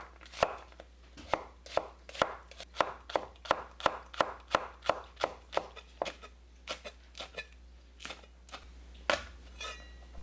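Knife chopping onion and green onion on a cutting board, a steady series of about twenty crisp, close thuds at an even pace with a few slower strokes near the end.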